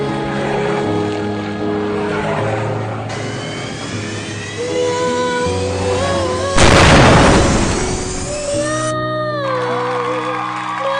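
Cartoon race car engines firing up at the start of a race: stacked droning engine tones that rise and shift, then a sudden loud roaring burst, followed by whining revving pitches sweeping upward, with no talking.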